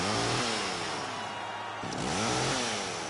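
A chainsaw revs loudly for a wrestler's entrance at a wrestling show, its engine dipping and then surging back up in sharp, close roars.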